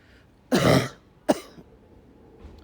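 Two short coughs, the first a harsh, longer burst and the second a quick sharp one, close by in a quiet room.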